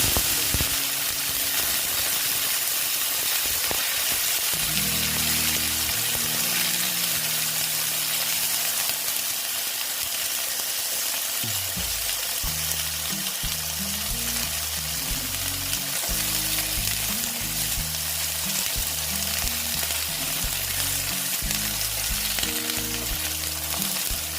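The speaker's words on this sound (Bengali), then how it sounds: "কমিয়ে আস্তে আস্তে ঢ্যাঁড়সগুলো ভেজে নিতে হবে" Okra frying in a pan with asafoetida, a constant loud hiss and sizzle running throughout, overlaid by a low repeating musical tone pattern in the background.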